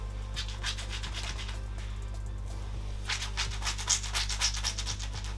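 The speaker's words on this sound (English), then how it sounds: "You want to hear a squishy, squelchy sound when you're scrunching." Wet curly hair is scrunched by hand, giving soft, close squishing and rubbing strokes in irregular bursts that grow busier toward the end, with no voices over it.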